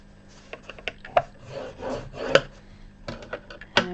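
Cardstock is scored for a handmade card, a series of short scratchy rubs and clicks of a scoring tool dragged along the paper, close and fairly crisp.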